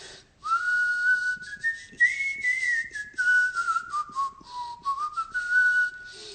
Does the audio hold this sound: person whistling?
yes